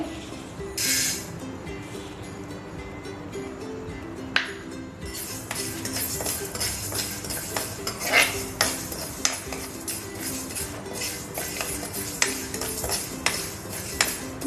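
Fenugreek seeds roasting in a hot kadai on a gas stove, a metal spoon clinking and scraping against the pan in irregular strokes over a low steady hiss, close by.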